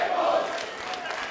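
A wrestling crowd at an indie supershow event chants loudly and steadily for tables, a dense wall of voices filling the arena.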